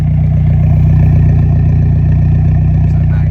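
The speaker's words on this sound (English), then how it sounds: "The idle sounds great with this exhaust." A 2010 Mitsubishi Lancer Evolution GSR fitted with a MagnaFlow exhaust idles nearby, producing a loud, steady, deep burble with an even pulsing rhythm throughout.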